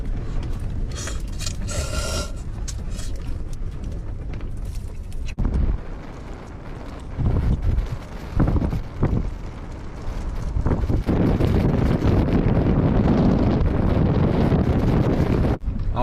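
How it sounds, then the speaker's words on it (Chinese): Strong wind buffets the outside of a camper van on a freezing day near zero degrees, roaring in loud gusts with heavy rushing noise, a brief calmer stretch midway before the blast returns. "外面还是狂风呼呼呼的啊"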